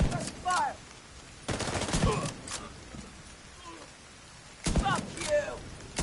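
Bursts of gunfire from The Division 2, with a sharp volley at the start, another around the middle and a third near the end, loud against quieter gaps where faint voices mingle.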